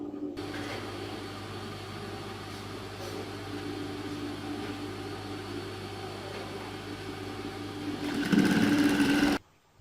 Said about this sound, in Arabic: طيب كده انا خيطت الناحية التانية